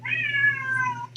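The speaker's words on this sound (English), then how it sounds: "Cat." A cat meows once, close and clear, in a single drawn-out, slightly falling cry over a steady low hum, with no talk.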